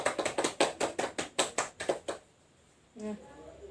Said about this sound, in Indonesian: Mari kita beri tepuk tangan kepada kelompok 3.